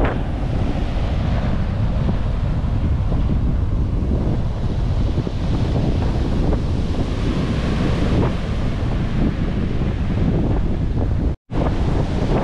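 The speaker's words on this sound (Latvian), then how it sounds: "vienkārši milzīgi viļņi." Huge sea waves crash continuously on the shore near Budva in Montenegro. Strong wind roars against the microphone, making a loud, dense, unbroken wash of surf. There is one brief dropout near the end and no voices.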